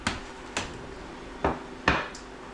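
Crispy bacon pieces set down one by one onto a plate, giving four light, sharp clinks and taps spaced irregularly, close up, against quiet kitchen background.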